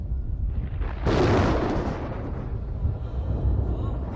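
A thunder sound effect accompanies a French audio Bible reading: a sudden loud, broadband crack about a second in, swelling into a rumble that slowly decays and lingers low and steady for several seconds, with no talk over it.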